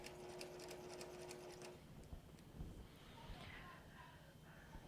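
A sewing machine stitches quilt sashing in a fast, steady mechanical rattle up close for the first couple of seconds, then stops, leaving faint handling noises and low room sound.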